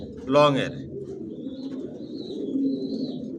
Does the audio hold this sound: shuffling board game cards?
no